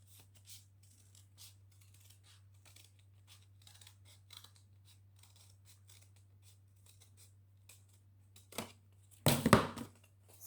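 Scissors snipping through paper while cutting out a Filipiniana sleeve pattern, quiet soft clicks over a steady low hum before a louder, closer burst of cutting near the end, with no voices.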